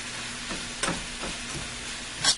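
Sliced onions and green peppers frying in a pan, a faint steady sizzle broken by a few quick scraping stirs, close by with no voices.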